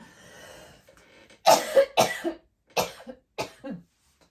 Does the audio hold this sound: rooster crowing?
no